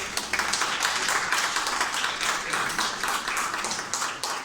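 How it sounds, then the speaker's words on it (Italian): Applause from an audience at an amateur theatre company event, moderately quiet and steady clapping with distinct individual hand claps, lasting several seconds before tapering slightly. "Grande applauso"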